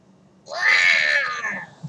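A human voice imitates a cougar with a single drawn-out, wailing cat-like yowl, loud and close, rising and then fading away.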